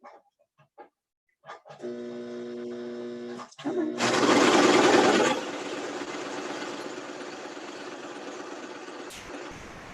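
A sewing machine stitches fabric for bowl covers after a few faint clicks. Its steady mechanical hum runs continuously, swells louder and faster for about a second, then settles back to an even drone. Close and without speech.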